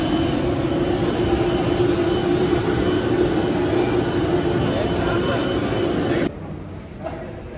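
An airliner landing at Thiruvananthapuram in heavy rain gives a steady, loud cabin roar with a low engine drone throughout, then drops abruptly to a much quieter hush near the end.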